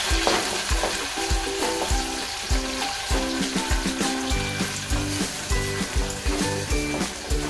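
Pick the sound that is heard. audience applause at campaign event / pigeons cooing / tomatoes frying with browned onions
tomatoes frying with browned onions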